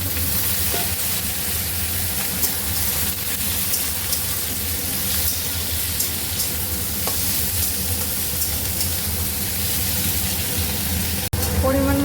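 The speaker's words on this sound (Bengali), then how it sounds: "এবার এর মধ্যে এই যে কেটে রাখা সবজিগুলো সব একবারে দিয়ে দেবো" Chopped vegetables are added to a hot pan with ginger for sambar and fry with a continuous dense sizzle. Light stirring scrapes come through, and a brief knock sounds near the end.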